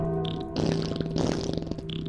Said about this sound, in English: All right, who's farting?